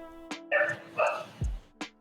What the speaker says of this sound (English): Who's barking is little Wanda right now